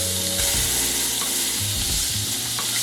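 A ribeye steak sizzles loudly in a hot pan just after being flipped, with a steady, close, dense frying hiss and a few faint scraping and stirring noises, and no voices.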